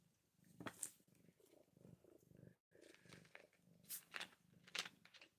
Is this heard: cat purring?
yes